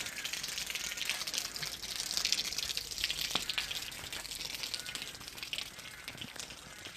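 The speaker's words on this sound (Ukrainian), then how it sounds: "І тут одразу можна прийняти душ" Water gushing from a free public shower in a town facility, a loud continuous hiss of spray close by, steady throughout with occasional splashes.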